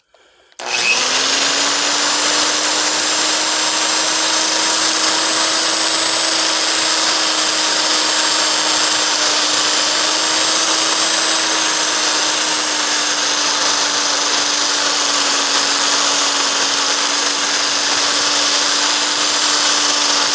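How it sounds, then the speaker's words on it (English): A die grinder whines steadily while smoothing the exhaust port of a ported LS cylinder head, a loud continuous high-pitched tone that starts abruptly and holds for the whole stretch. "So I'm doing the toughest port right here as far as grinding."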